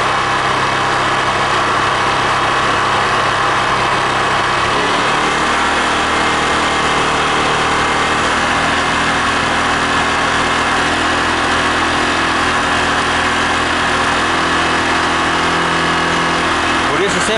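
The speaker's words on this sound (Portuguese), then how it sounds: "Vou ter que deixar um pouco ligado assim, pra ir carregando um pouco a bateria da moto." A fuel-injected Honda Titan 150 motorcycle idles with a weak, discharged battery, giving a continuous, loud, buzzing engine hum that shifts slightly in pitch partway through and holds steady close by.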